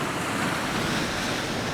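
Big ocean swells crashing against a rocky shoreline, a loud, continuous roar of surf with heavy wind buffeting the microphone.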